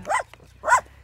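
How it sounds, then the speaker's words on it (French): A large guard dog barks twice, loud and close, on a walking route between Le Grand Lemps and Le Pin in France, with a low steady hum underneath. "Un gros chien de garde."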